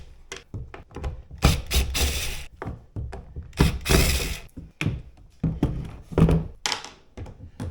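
Repeated handling thunks and ratcheting driver clicks come from screws being backed out of an Old Town Sportsman kayak hull while a Humminbird Helix transducer is fitted, close and irregular with no talking.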